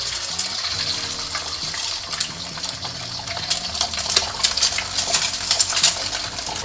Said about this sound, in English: Spread the oil around. And drop in the eggs.